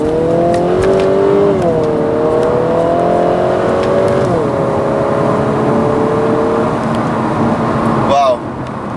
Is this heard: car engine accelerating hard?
yes